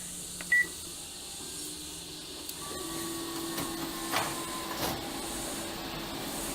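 A colour photocopier runs through a copy, whirring and humming with mechanical clicks, a brief beep early on and rising tones as the machine works nearby.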